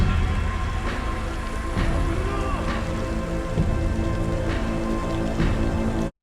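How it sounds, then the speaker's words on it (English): Steady rain pours throughout, a dense continuous hiss of drops on surfaces with faint low rumbles underneath, broad and even with no voices. "And it's raining again, of course."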